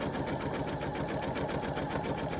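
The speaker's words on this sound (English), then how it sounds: "And we just go right down beside that line with your presser foot" Sewing machine stitching batik quilt pieces into half-square triangles, a steady, close, rhythmic whir of the needle running continuously.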